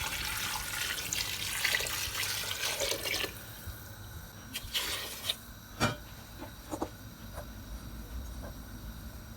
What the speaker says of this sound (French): et on va mouiller à hauteur